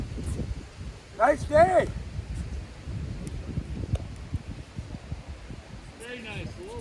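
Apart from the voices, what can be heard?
wind rustling leaves on a breezy day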